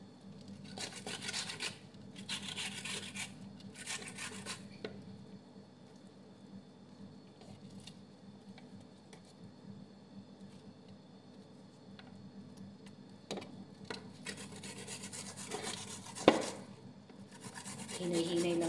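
Onion and garlic are grated by hand for hamburger patties, making bursts of rough rasping scrapes in short runs separated by quieter pauses, close and fairly faint.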